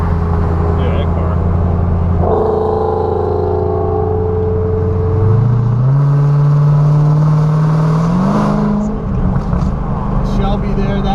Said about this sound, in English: That blower sounds like a siren.